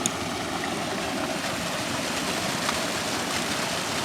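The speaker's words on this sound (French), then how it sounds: "où la cascade continue inlassablement son chemin" A waterfall pours into a stream among trees, giving a continuous, even rush of falling water that stays steady and fairly full throughout, with no voices.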